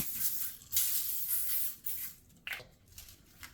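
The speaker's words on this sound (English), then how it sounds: "And spray it with some extra virgin olive oil." Extra virgin olive oil is sprayed over potatoes in a baking tray, making short airy hissing bursts, close and fairly soft, with no voices.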